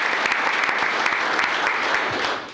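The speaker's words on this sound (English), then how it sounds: "let's give him a round of applause" Audience applause at a county commissioners court meeting honoring an employee's 25 years of service, steady dense clapping filling the room and tapering off at the end.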